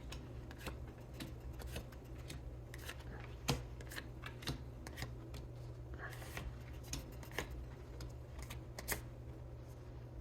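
Tarot cards shuffled by hand at close range, a steady run of soft riffling and light flicking clicks over a low background hum, with no talking.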